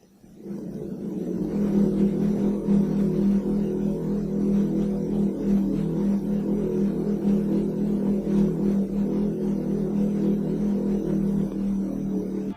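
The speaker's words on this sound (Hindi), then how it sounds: "आपको ऐसा लगेगा कि यहाँ आसपास ये कोई डीजल इंजन की आवाज़ है" The Taos hum: a steady low droning hum, like a distant idling diesel engine, holds constant throughout with no voices.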